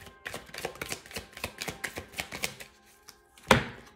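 Oracle cards handled and shuffled in quick succession, a steady run of dry papery taps for about three seconds, then a brief pause and one sharper slap, close up with no voices.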